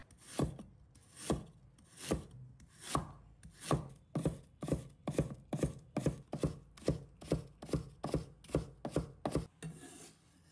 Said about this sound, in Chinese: 准备一块生姜，把它切成丝。